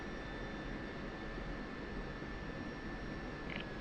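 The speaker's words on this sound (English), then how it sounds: "Put it to sec and you'll hear the RPMs run down" Simulated F-16 jet engine in the DCS game as its RPM runs down, heard as a steady, loud broadband roar with a faint high whine and no clear drop across the few seconds.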